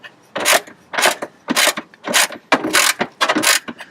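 Ratchet wrench tightening bolts while fitting a tow hitch to a Renault Espace 4, eight loud close bursts of rapid clicking in an even rhythm, with brief pauses between strokes and no talk.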